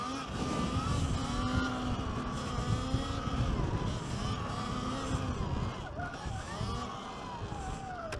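Surron electric dirt bike revving through a wheelie, a steady high whine with rising and falling harmonics over loud rumbling wind and tire noise, close and continuous throughout.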